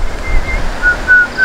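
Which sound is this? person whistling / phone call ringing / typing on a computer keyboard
person whistling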